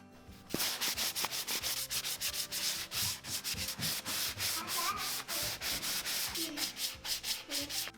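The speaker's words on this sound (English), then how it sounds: "I'm just going to sand this all and smooth it out" Sandpaper scrubbing back and forth over a piece of painted furniture to distress its layered chalky finish, a steady run of close, loud rasping strokes in a quick, even rhythm with no talking.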